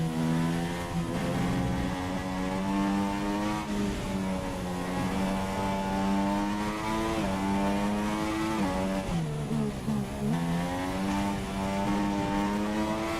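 Formula One car engine in the racing game F1 2016, a loud, steady high-pitched whine that climbs with each gear, drops sharply on downshifts, and revs on throughout with no talking.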